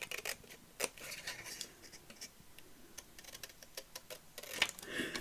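Scissors trim paper along a drawn line in a journal, giving soft, close snips and small clicks at an uneven pace in a quiet room, with no talk.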